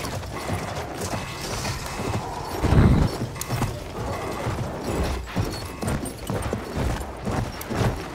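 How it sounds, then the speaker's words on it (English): A horse galloping in the Battlefield 1 video game, with busy clip-clop hoofbeats and mechanical rattling amid dense battle noise, a heavier thud midway, no talking. "Alright, you got a horse coming at you."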